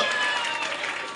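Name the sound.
audience applause at school smart board inauguration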